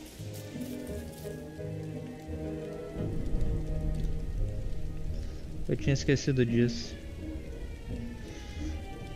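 Rain falling in the game Don't Starve, a steady soft patter heard under a man's speech, with game sound effects over it partway through.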